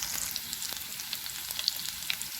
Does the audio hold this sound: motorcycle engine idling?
no